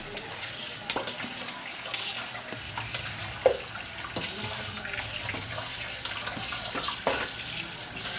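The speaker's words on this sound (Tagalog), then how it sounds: "So, let's wash our chicken." Raw chicken rinsed under a running kitchen tap, a steady broadband splash of water with uneven bursts and knocks as the pieces are handled, fairly close.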